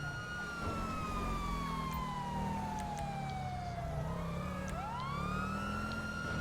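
A police siren wails inside the video game GTA with the LSPDFR mod during a pursuit of a vehicle failing to yield. It sweeps slowly down, then switches to a quicker rising yelp over the rumble of a running engine, loud and steady throughout.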